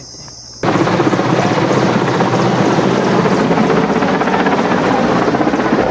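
A helicopter spraying water on a forest fire in the Sundarbans roars in after a quiet start, a loud steady rotor thrum with rapid blade chop that stays close throughout.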